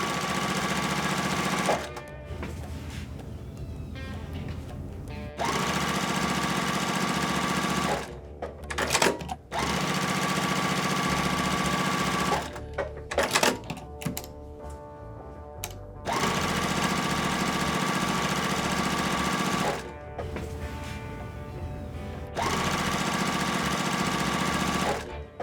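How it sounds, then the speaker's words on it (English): A sewing machine stitches quilt rows in several long, steady bursts of loud motor whir with a fast needle rhythm, separated by short pauses. "I'm gonna sew a couple of these together just so you can kind of see as it comes together"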